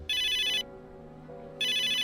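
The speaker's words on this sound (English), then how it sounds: "Phone." A phone ringtone from the video game Megadimension Neptunia VII plays two bright electronic bursts separated by a short pause. It sounds clean and alone, with a soft musical backing between the rings.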